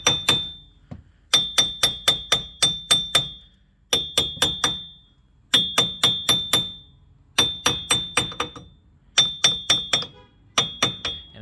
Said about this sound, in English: A little bit of light tapping here.